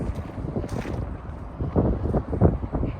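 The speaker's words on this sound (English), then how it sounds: "Wind's still blowing like crazy, so you may hear that come through" Strong wind gusts outdoors beside a 2018 Ram 3500 hotshot truck, a steady low rumbling buffet across the microphone that swells and surges in waves with no talking.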